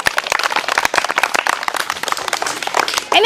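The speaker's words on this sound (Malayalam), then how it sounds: "ക്ലാപ്പ് ചെയ്തേ" Sustained clapping and applause from a group at a primary school event, dense and steady throughout, with a brief voice at the very end.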